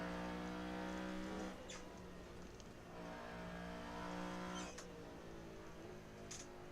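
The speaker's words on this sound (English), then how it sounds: "how good does this NASCAR engine sound though?" A NASCAR engine drones steadily in the Assetto Corsa racing video game, a sustained tonal roar with slight rises and falls in pitch as the car circles the track, faint and without voices.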